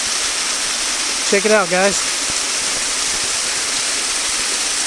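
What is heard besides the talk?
waterfall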